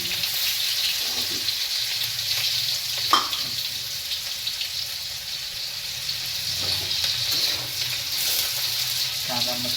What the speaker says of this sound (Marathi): आता कांदा भाजायला लागलेला आहे